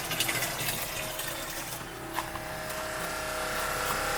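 A small electric water pump wired to an old, worn car battery runs with a steady tonal whine and hum, close and continuous, with rushing flow beneath it and no talking.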